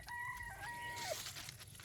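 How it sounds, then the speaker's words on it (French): A neighbouring rooster crows once in a clear cock-a-doodle-doo from a short distance away, heard faintly over the quiet ambience of a home vegetable garden. "il y a le coq du voisin qui chante"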